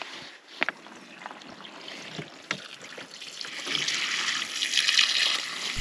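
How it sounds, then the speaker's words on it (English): Water from a tank running down by gravity into a washing machine in an off-grid homestead laundry room, a close trickle and splash with a few knocks, swelling into a louder steady rush. "And the water just gravity feeds from the tank down to the washer."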